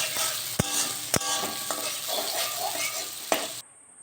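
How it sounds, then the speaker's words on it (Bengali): Chopped onion and capsicum are stirred in a hot pan for a chicken-with-capsicum dish, a steady close sizzle broken by a few sharp spatula scrapes and clinks before the sound cuts off abruptly near the end. "এবার একটু নেড়ে চেড়ে নেব"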